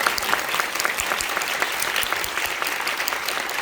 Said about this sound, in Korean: 박수 한 번 드리고 시작하죠